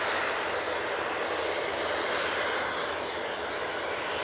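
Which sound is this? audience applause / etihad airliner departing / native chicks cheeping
etihad airliner departing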